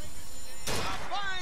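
A single gunshot fired at a shooting gallery in the video game BioShock Infinite, a sharp burst midway with a brief ringing tail, over a game voice and background ambience.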